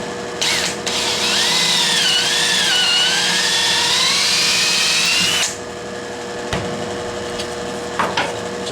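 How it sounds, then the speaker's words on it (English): A power drill bores a centered hole through a wooden jig for a Radio Craftsmen RC8 cabinet. Its loud, steady whine wavers in pitch for about five seconds, then stops, followed by a few light knocks of wood. "take our drill and drill down"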